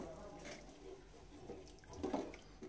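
A bowl of water splashes into cooked-down masala for a bhindi curry in a kitchen, a short soft pour and sizzle that rises near the end, faint and close.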